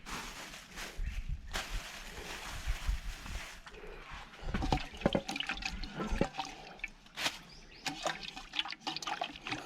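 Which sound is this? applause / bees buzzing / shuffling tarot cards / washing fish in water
washing fish in water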